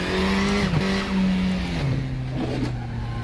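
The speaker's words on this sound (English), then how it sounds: "You can hear the car bottom out through that." A KTM race car in the DDF Racer driving game roars at Knutstorp, engine pitch rising and dropping between gear changes, with brief thumps and scrapes of the car bottoming out over a bump, loud and close with no talk.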